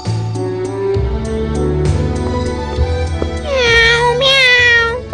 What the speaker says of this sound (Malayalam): പൂച്ചക്കുഞ്ഞിനെ കാണാൻ നല്ല രസമുണ്ട്.